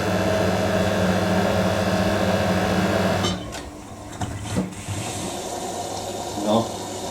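Washing machine in its spin cycle, a steady loud whirring drone with a low hum that suddenly drops partway through, leaving a quieter rumble with a few knocks and clunks.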